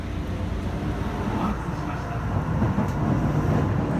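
A steady low rumble and rattle of a moving passenger train carriage in Japan fills the space, constant and close, with faint murmuring voices underneath.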